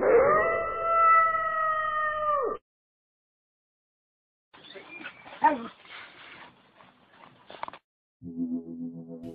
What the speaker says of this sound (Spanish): Alguien filma a sus perros jugando en el patio trasero de una casa